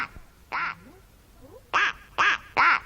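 A cartoon duck sound effect gives four short, bright, nasal quacks, one early and then three in quick succession, loud and close over a quiet background.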